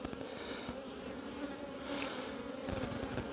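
Honey bees in an opened hive during a box swap, a dense, continuous buzzing hum from many bees close by, steady and unbroken with no talk.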